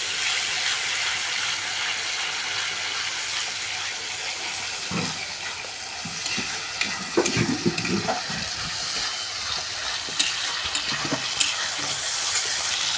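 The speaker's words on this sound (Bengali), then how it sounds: "এবার দিয়ে দিচ্ছে টমেটো আর কাঁচা লঙ্কার পেস্ট, যেটা মা করে রেখেছিল, দিয়ে একটু কষিয়ে নিচ্ছে।" Tomato and green chili paste is sautéed into a chicken curry base, making a continuous frying hiss. Bursts of stirring and scraping grow louder midway and return in short rattles, with no talk.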